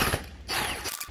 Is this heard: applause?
no